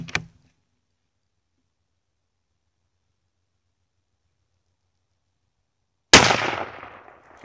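A single sharp Mossberg MVP Patrol .308 rifle shot cracks loudly near the end, its report decaying over a second, after a brief faint sound at the start and a long stretch of silence.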